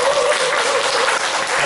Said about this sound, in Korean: 노래가신 리더님께 다시 한번 박수 부탁드립니다